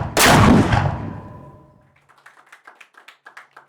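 A heavy blank charge booms from a ceremonial cannon at the Grand Hotel, one loud close blast that rolls off over about a second and a half, followed by scattered light clapping from the crowd.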